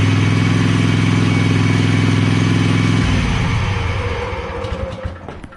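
A Toro Grandstand stand-on mower engine, recently fitted with a new battery after sitting unused, runs loud and steady with a strong low drone, then its note drops and becomes rougher and fainter toward the end.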